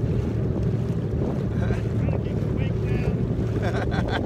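A jet ski riding on Lake Mead, with loud wind buffeting and water rushing continuously around the rider. Voices are faintly heard under the noise.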